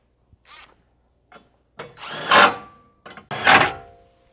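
Bolts being tightened on a Can-Am Maverick X3 seat with a ratchet wrench. A few short soft clicks come first, then two louder rasping ratchet bursts, all close up, with no speech.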